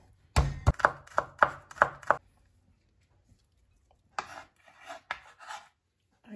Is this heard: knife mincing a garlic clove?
yes